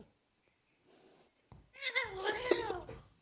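A cat in a played-back video gives a drawn-out, wavering meow that rises into a caterwaul, heard fairly close after a few quiet seconds.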